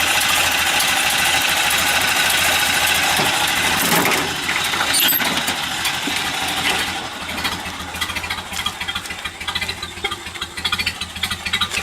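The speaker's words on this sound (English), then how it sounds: "Here's where you can hear that great Model A sound." A 1928 Ford Model A engine running steadily, a continuous loud mechanical rumble and chatter that stays close throughout with slight shifts in tone, no voices.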